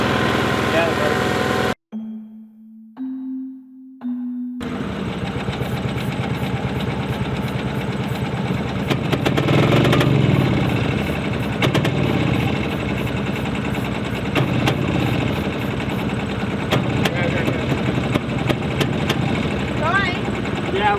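A 40+ year old tricycle engine cranks and turns over steadily on a jump start after a brief low hum and pause, a rough droning mechanical churn with scattered clicks continuing for a long stretch.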